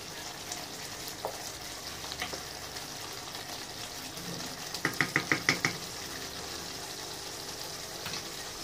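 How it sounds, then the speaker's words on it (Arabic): Kofta meatballs frying in a pan, a steady sizzle with a quick run of sharp knocks and clatters in the middle, likely utensils against the pan, with no talking. "دابا اخوتي ها الكفته ديالي راه كطيب"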